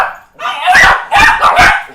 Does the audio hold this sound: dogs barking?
yes